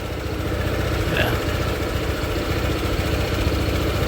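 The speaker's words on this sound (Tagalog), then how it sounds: "So muna yung tingog sa yung makina guys" A 2022 Honda PCX160 scooter with a 160cc engine idling nearby, a steady low mechanical rumble that holds even and continuous throughout.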